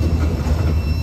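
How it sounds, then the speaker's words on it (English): A mixed freight train rolls past near old tracks with abandoned rail cars, giving a loud, steady rumble with faint wheel squeal and rhythmic clatter, and no voices. "it's nice to actually see a train rumble across here just by happenstance"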